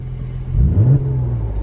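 A Mercedes C43 AMG with an Armytrix aftermarket exhaust gives one short, close rev, rising and falling in pitch within a second over a low idle rumble.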